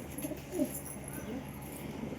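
Pigeons, including a red one, cooing softly in a loft with low, repeated murmuring calls, faint and close, with light background noise.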